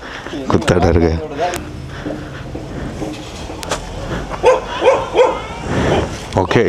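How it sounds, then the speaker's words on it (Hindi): A frightened dog barks and yelps in short bursts amid close, overlapping talk, during work on a Honda Unicorn motorcycle. "कुत्ता डर गया।"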